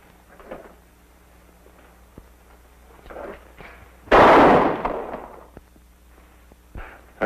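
A single loud gunshot sounds partway through during a target-shooting bet in a 1950s Western TV episode, with quieter thuds and movement around it.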